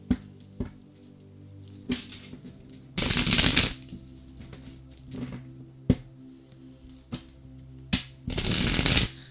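Tarot cards are riffled and shuffled in two loud bursts, with softer taps and handling clicks of the deck scattered between them, close up.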